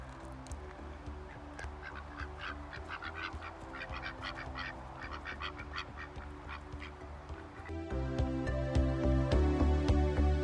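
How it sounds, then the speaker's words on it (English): Baby ducks and geese quack and honk in a steady scatter of calls, moderately close, with a louder, denser burst of honking toward the end. "there are some baby ducks and geese"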